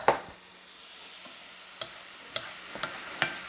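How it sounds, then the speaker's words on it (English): Food frying in a pan with onions and salt, a gentle steady sizzle under a series of sharp scraping clicks as a utensil stirs, close and alone. "Give this a good mix because we don't want this to burn."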